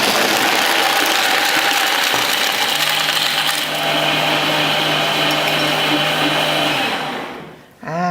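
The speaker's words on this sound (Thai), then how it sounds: "เดี๋ยวเราปั่นเลยเนาะ 25 วินาทีนะคะโปรแกรมของการปั่นกับเครื่อง iMix ค่ะ" An iMix blender whirs loudly and steadily as it blends a frozen iced Americano for a 16-ounce cup, its motor pitch shifting slightly before winding down near the end.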